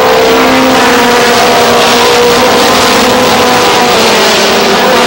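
Race cars roar off turn 2 at Star Speedway, a loud, continuous engine drone with a steady pitch that holds from start to finish, several cars running close together with no voices over them.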